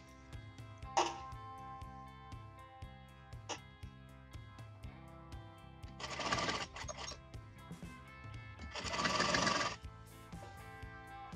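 A sewing machine stitches a piping strip onto a sleeveless kurti armhole in two short, steady whirring runs, close and moderately loud, over soft background music and a few small clicks.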